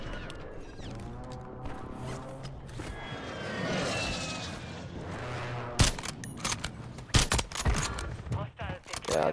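Gunfire from a BAL-27 in a first-person shooter game comes as bursts of rapid sharp shots in the second half, loud and close, after a stretch of aircraft-like engine drone, with voices talking underneath.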